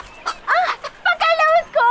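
A chicken clucks and squawks in a few short, agitated bursts, loud and close, each call rising and falling in pitch.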